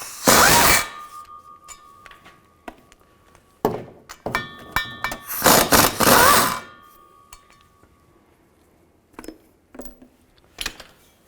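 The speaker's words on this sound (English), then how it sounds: "Take these 4 bolts out, use a 15mm socket." Bolts backed out with a 15mm socket on a 2010-2017 Chevrolet Equinox during CV joint work, heard as scattered metallic clicks, clunks and ratcheting bursts, some sharp and close, with quiet gaps between them and no talk.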